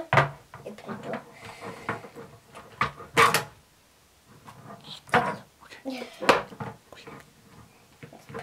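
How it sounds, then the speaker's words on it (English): A toy door on a little pony playset is opened, with small clicks and knocks of plastic parts close by amid soft handling noises and a person talking. "Open the door."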